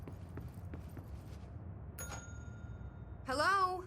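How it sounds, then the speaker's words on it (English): Single bright doorbell chime inside the video game Control, a short ringing tone with a wavering electronic ring near the end, heard over quiet ambient footsteps and room tone. "that was a doorbell."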